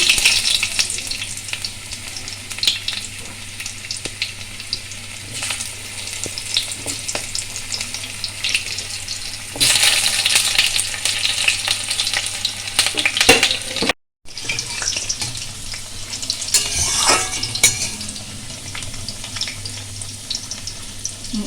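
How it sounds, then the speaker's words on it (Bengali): Steady sizzling of potatoes frying in a pan, with occasional stirring scrapes and a brief louder burst midway; no talking. "আলুগুলো ভাজা ভাজা একটু হয়েছে"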